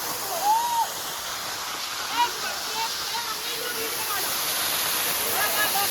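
A waterfall at Kolli Malai gives a steady, broad rush of falling water, heard up close, with faint voices and brief chirps over it.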